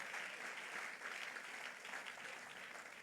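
A church congregation applauds and cheers in praise of the Lord, a dense, sustained wash of clapping and acclaim that holds steady throughout with no single voice standing out.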